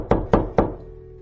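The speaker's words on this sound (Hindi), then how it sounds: "तभी उसके दरवाजे पर 3 धीमी दस्तकें हुईं" Three soft, evenly spaced knocks land on a door, dull and close, each fading quickly into a quiet room.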